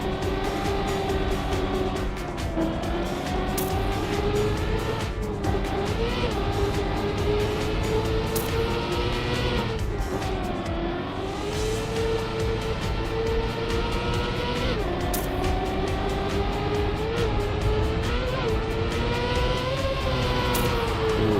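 Race cars roar through a Trackmania video game tournament map, engine tones rising and falling steadily with gear shifts and cornering, loud and continuous throughout with no talk.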